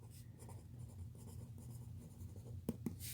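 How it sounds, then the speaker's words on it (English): Pen writing math notes on a 2x2 linear systems lesson: soft, close scratching strokes in short bursts, quiet and continuous, with a couple of sharper taps near the end and no speech. "So let me write down what can happen"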